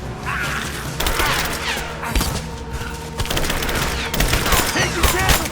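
Sustained gunfire in the action game Rise of the Tomb Raider, dense rapid bursts of shots and impacts rolling on without pause, loud and close, with faint voices shouting under it.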